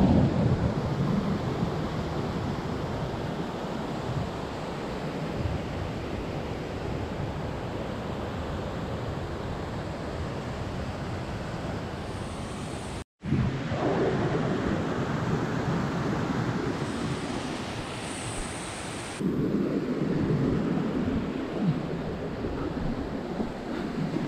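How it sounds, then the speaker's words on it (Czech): Waterfalls below Machu Picchu in Peru: a loud, continuous roar of rushing water, broadband and unbroken, with a brief cut midway and a slightly heavier low rumble in the final stretch. "Vodopády pod Machu Picchu."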